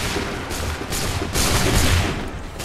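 A musket volley fired on command by soldiers in Assassin's Creed III at Lexington, a dense crackling fusillade of overlapping shots that roll and swell loudly, with a second heavier burst midway.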